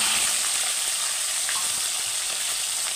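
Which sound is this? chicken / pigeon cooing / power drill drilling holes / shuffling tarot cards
chicken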